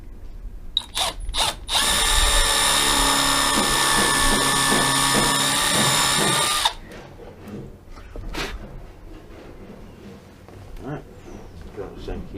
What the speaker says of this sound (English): Right, we're going to countersink now.